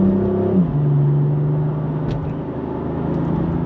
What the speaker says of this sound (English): Driving the BMW M4. All the settings are Sport Plus.